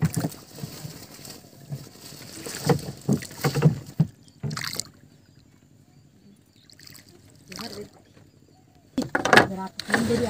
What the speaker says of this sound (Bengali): বাবা এখন নৌকা বাইছে